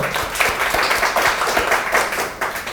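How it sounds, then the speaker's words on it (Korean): Short burst of audience applause at a Korean business talk, many hands clapping together, fairly close and steady for a few seconds. "박수 한번 칠까요?"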